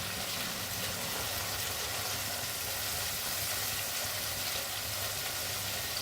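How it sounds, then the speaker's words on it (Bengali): Spice paste cooking in oil in a pan gives a dense, even hiss that holds steady for the whole stretch, fairly quiet and uninterrupted, with no voices. "ভালো করে মশলাটা কষিয়ে নেব।"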